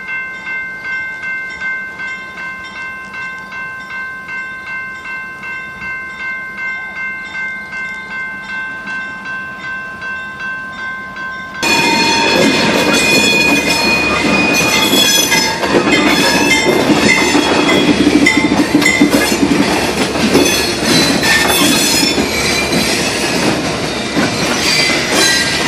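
Train crossing the Cape Cod railroad bridge, loud and close, starting as a steady tonal rumble and then erupting into harsh, sustained metallic squealing of wheels for the second half, with no talking.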